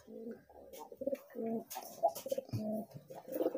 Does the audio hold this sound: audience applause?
no